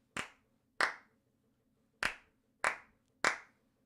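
Five crisp hand claps in a simple rhythm for an ear-training exercise, close and sharp against near silence, with an uneven gap before the last three evenly spaced claps.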